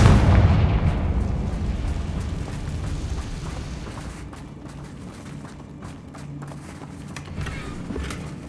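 A Confringo blast spell goes off in Hogwarts Legacy, a loud, deep explosive boom at the start that rolls into a long rumbling decay, with scattered crackles and pops over the fading low end.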